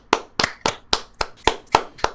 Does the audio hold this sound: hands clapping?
yes